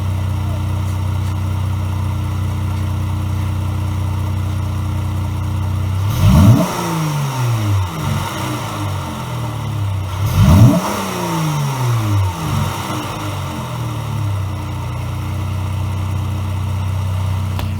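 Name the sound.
2019 Chrysler 300 AWD Sport engine revving with performance exhaust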